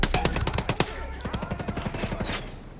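Rapid automatic gunfire during a firefight in the tactical shooter Ghost Recon Breakpoint, a dense string of sharp shots fired in quick bursts, loud and close throughout.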